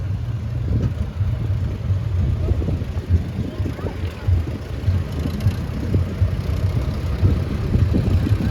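At a steam rally, a BMC three-cylinder 45 horsepower tractor engine runs steadily nearby with a low, throbbing chug that stays even throughout, joined by faint background bustle.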